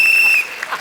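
A coach blows a whistle on a comedy TV stage during a tennis skit: a single shrill, sustained blast lasting under half a second, then cutting off into faint room murmur.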